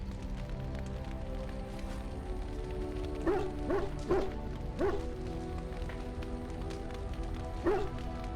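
A dog in Dragon Age: Origins lets out a handful of short, sharp barks, spaced irregularly over a soft ambient game background with no talking.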